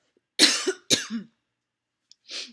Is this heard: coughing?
yes